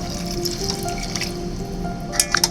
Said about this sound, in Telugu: ఇప్పుడు మనం ఒక గ్లాస్ వాటర్ పోసుకుందాము